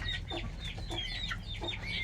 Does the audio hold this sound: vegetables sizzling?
no